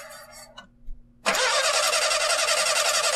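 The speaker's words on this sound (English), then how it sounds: "And the Jeep is not starting" A Jeep in an indie horror game cranks briefly and falters, then after a short pause the engine catches and settles into a loud, steady running roar.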